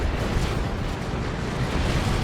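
Las cannon fire and explosions rage in a Dawn of War 2 battle between Chaos Space Marines and Imperial Guard, forming a dense, continuous rumbling roar with no distinct gaps.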